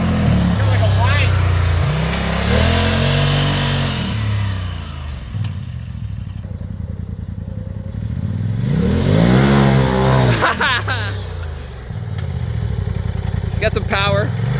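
A high mechanical whine from the portal gears of a Polaris RZR Turbo side-by-side rises and falls as it accelerates, loud and close, with a person talking over it.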